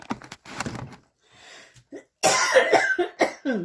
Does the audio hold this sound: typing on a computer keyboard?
no